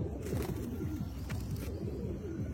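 Pigeons coo in a soft, steady chorus of repeated low, rolling calls from a pigeon-keeping setup meant for catching guest pigeons, fairly close and continuous without talk.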